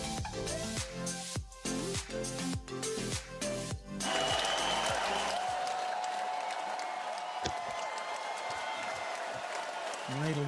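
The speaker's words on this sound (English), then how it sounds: "Mairead will wait for the applause to die down" Applause at an online awards ceremony for community radio, starting a few seconds in after some music and carrying on as a bright, steady wash of clapping to the end.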